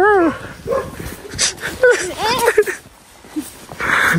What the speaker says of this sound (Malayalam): കൊറേ വീട്ടില് പട്ടിയുണ്ട് കേട്ടോ ഇവിടെ